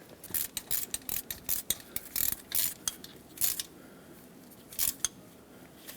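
A ratchet snugging the bolt on the transmission turbine shaft speed sensor of a 2004-2017 Ford E-350, giving close, rapid clicking bursts separated by short pauses.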